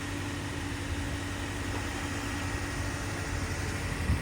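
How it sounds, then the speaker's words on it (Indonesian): A Toyota Veloz hybrid car's engine runs at a steady low hum with a constant even drone, heard from close range with no talking. "ini suara mesinnya nyala"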